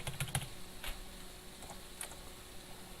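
Typing code on a computer keyboard: a few quick clustered keystrokes at the start, then sparse soft key taps over a faint background hiss.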